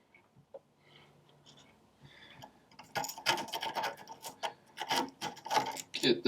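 A screw is driven into an Ender 3 Pro metal extruder, starting with faint ticks and then turning into close, rasping, ratcheting bursts that grow louder over the last few seconds.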